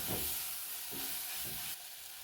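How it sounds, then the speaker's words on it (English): Bacon sizzles in a pan with browned onions, a constant bright frying hiss with a few soft stirring scrapes, close and steady throughout. "I'm going to add in my bacon."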